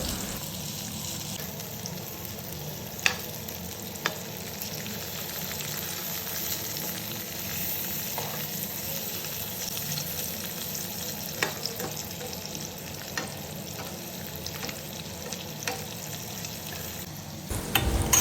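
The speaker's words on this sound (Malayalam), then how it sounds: "അപ്പോൾ അവിടെ കറിയും ആവുന്നുണ്ട് ഇവിടെ ഫ്രൈയും ആവുന്നുണ്ട്" Fish roe frying in a pan gives a steady, close hiss of sizzling oil throughout, with a few brief clicks and stirring scrapes and no voices.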